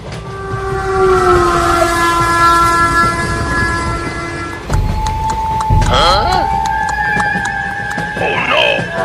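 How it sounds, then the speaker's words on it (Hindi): Train travelling through a forest, a loud close rumble with sustained horn-like tones, then a sharp shift to clattering and another long whistle tone, with voices briefly mixed in. "अब ट्रेन जंगल में से होकर गुजरेगी"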